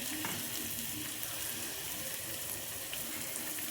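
Fresh sardines bought that morning, dropped into a hot pan to fry, give a continuous bright sizzling hiss that stays even and fairly close throughout, with no voices.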